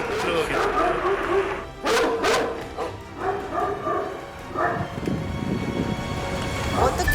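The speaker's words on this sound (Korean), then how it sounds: "근데 개들이 좀 많이 짖네요" Several Central Asian shepherd dogs (Ovcharka) bark and yip repeatedly at visitors arriving at a factory compound on the outskirts of Gyeonggi Province, a loud continuous chorus mixed with people talking nearby.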